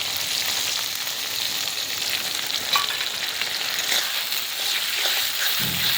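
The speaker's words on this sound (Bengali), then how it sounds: "ফোড়ন দিয়ে দিলাম এখানে শুধু আদা বাটা আছে আদা বাটা" Ginger paste frying in hot oil in a medium wok while spices are tempered, a steady close hiss and crackle with occasional stirring.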